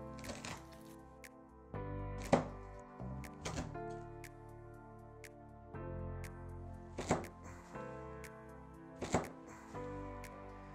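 Knife cutting through crispy roast pork belly with ribs removed, a series of close crunchy chops and crackles spread irregularly over several seconds, fairly quiet.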